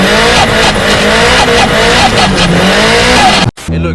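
A loud, rasping turbocharged Nissan S15 drift car engine roars and revs continuously, its screamer pipe giving sharp turbo-like whistles overhead, then cuts out abruptly near the end before rumbling back.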